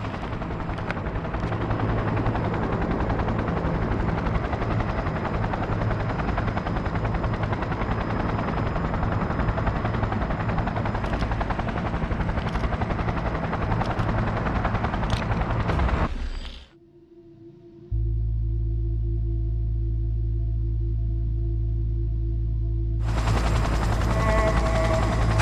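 A helicopter takes off in the video game Cyberpunk 2077: a loud, dense rotor and engine roar with sharp crackling bursts, then a sudden cut to a low synthetic drone before the roar returns.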